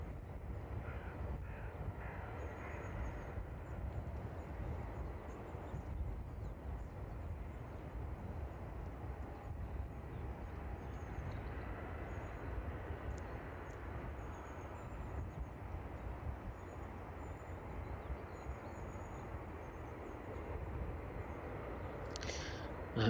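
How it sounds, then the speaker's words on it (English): A Hawker Beechcraft jet from Southampton landing at East Midlands Airport, a steady low distant roar of engine noise that holds level throughout with no voices. "The Hawker Beechcraft here from Southampton this morning, just landing after that TUI"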